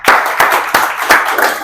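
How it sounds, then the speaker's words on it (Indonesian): Children in a classroom clap together in a rhythmic pattern, five sharp, loud group claps spaced evenly about a third of a second apart, close by. "berarti tepuk tangan yuk"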